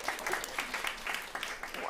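Quiet, steady audience applause at a food and agriculture climate panel, with soft, dense clapping that sounds distant and continuous under a faint murmur.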